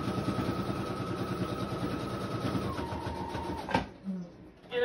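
Sewing machine stitching journal pages together, a steady rapid mechanical whir and needle chatter that changes pitch slightly, stops abruptly, then gives way to quiet handling noises.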